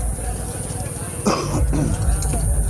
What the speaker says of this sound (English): Excuse me, clear my throat.